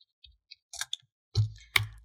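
Keys on a Windows PC or laptop keyboard click a few times, light and sparse, then two heavier, louder presses land close together near the end.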